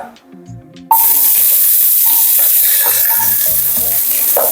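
Onions dropped into hot oil in a Punjabi home kitchen burst into a loud, bright, continuous sizzle after a moment of quiet handling noise, the hiss staying strong with small crackles throughout.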